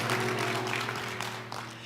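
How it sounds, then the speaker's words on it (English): Applause from an event audience for a pianist, a short burst of scattered clapping over a steady low hum that fades within two seconds. "Please give my pianist, Sharp Radway, a round of applause, because I'm not here alone."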